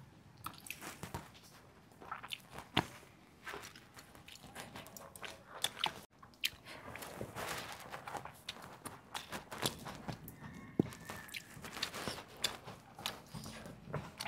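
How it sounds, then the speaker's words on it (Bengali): Crispy fried khoira fish being eaten up close, with crunchy bites and wet chewing sounds in an irregular rhythm, quiet overall and without talk. "মাছ ভাজাটা খেয়ে দেখি"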